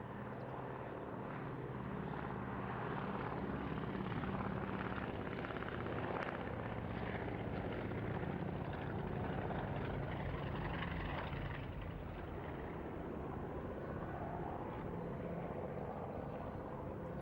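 A restored vintage German transport aircraft, comparable to a DC-3, flies overhead, its piston engines a steady, broad drone that holds at a distance for the whole stretch.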